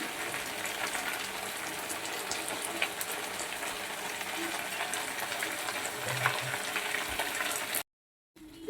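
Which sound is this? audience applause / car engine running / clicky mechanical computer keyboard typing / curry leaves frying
curry leaves frying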